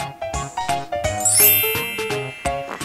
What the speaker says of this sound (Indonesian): Apa nih suara HP sama Devi?